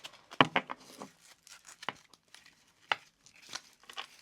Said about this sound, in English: I'm going to do a shuffle.